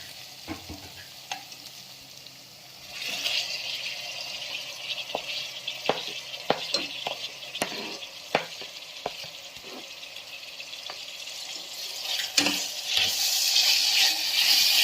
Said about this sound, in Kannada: ಇದನ್ನೀಗ ನೀಟಾಗಿ ಫ್ರೈ ಮಾಡ್ಕೊಳ್ಳಿ.